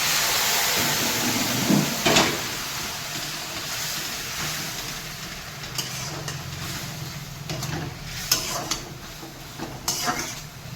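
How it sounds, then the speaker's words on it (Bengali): Hot water is poured into a pan of mushroom curry frying on a gas stove, producing a steady hissing sizzle throughout with a few clinks of a utensil against the pan. "মাশরুমগুলো সব কষানো হয়ে গেছে পুরো কমপ্লিট আমি এবারে একটু গরম জল দেবো"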